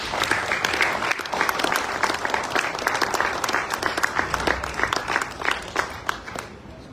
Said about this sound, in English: let us give a round of applause to the characters today